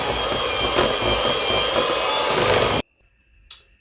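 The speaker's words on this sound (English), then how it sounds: "So we'll go right ahead and use our electric mixer." An electric mixer beats custard biscuit batter with a loud, steady high-pitched whir that cuts off abruptly near the end, leaving a faint clink and near silence.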